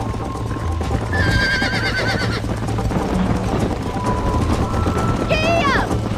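A horse in Red Dead Redemption whinnies twice and gallops with rapid clip-clopping hooves, loud and close, while a person speaks over the hoofbeats.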